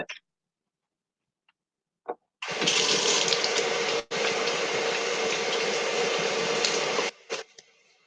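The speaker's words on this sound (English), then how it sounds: "I'm going to rinse this off real quick." Kitchen tap water runs in a strong, steady hiss over a bunch of cilantro for about five seconds, briefly interrupted, then shuts off; a few faint handling sounds before and after.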